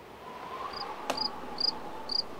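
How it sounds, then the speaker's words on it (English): Cricket chirping in a quiet room, a few short, high, evenly spaced chirps, fairly faint over a low hum, broken once by a sharp click. "It's the sound of a cricket riding a tumbleweed."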